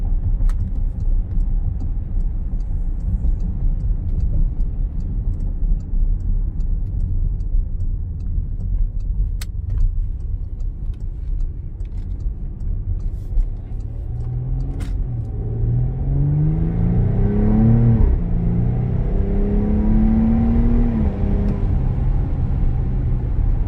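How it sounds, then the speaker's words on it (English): A 2020 Porsche Cayenne S accelerates with a steady engine rumble that rises in pitch through the gears, recorded from inside the cabin, with a faint exhaust crackle at a shift and no talking. "And when it did that shift, that exhaust has that little crackle."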